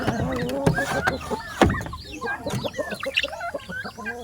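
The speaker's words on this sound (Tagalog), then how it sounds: "Iyan malaking manok." A big chicken in a backyard coop clucks in a busy run of short calls, close by, with brief bursts of other birds mixed in and little talk.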